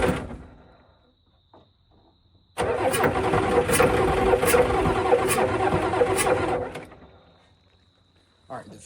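A cheap, worn-out old diesel truck that sprays fuel and leaks oil from the exhaust abruptly catches and roars loudly for about four seconds before dying back down, with quiet stretches on either side.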